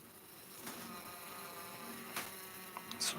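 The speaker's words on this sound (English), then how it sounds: "So some of them making ventilation, some are feeding, some are buzzing." Bumblebees buzz inside a closed hive box, a soft continuous drone with a few louder passes and wing bursts near the end, faint and without voices.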